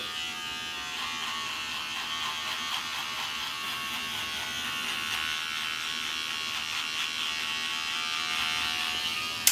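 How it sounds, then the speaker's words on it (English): Electric beard trimmer buzzing steadily and close while trimming a beard, a continuous even whine that runs unbroken throughout with no talking. "All right, let's go, trimmer."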